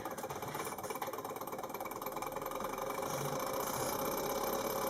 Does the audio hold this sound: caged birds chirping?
no